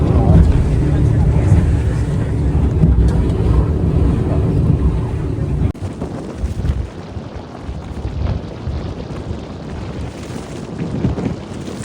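Tour boat sailing on open water off Nuuk, Greenland, a constant loud engine and hull rumble mixed with wind buffeting the microphone, easing somewhat halfway through.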